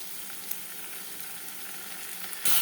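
Ginger garlic paste sizzling with onions in a hot pan, a steady soft crackling fry throughout with a louder burst of sizzle near the end, no voices.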